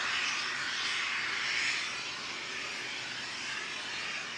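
Broad, steady roar of a Qantas airliner's jet engines on runway 29 in strong winds, distant and constant, swelling slightly before easing.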